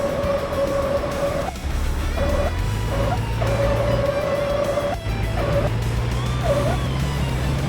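Loud engine roar with squealing tire screeches coming in bursts, driving sounds from an indie driving video game, close and continuous.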